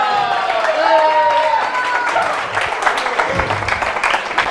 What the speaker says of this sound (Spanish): un aplauso, Francisco Granados.